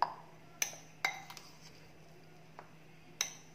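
A spoon clinks against a bowl while mixing a cheese and corn sandwich filling. A few sparse, faint metallic taps ring out at uneven intervals over a quiet background.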